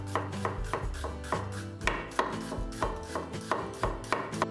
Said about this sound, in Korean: 양파 4분의 1개는 곱게 채 썰어주세요.